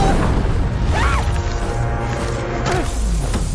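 A loud animated explosion in RWBY bursts beneath the characters, a dense rumbling blast with whooshing debris and crashing impacts throughout.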